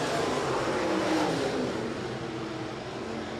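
USRA stock cars roar past during a heat race at Rapid Speedway, their engines forming a loud, dense, continuous wash of revving noise that fades slightly toward the end.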